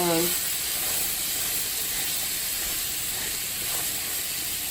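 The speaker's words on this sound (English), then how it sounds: "Next we're just gonna add our meatloaf to our skillet. And the sizzling is fine" Steady loud sizzling and hissing of meatloaf frying in a hot cast iron skillet, continuous throughout with a brief tonal clank at the start.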